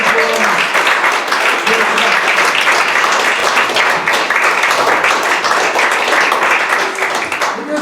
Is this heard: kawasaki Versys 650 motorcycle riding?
no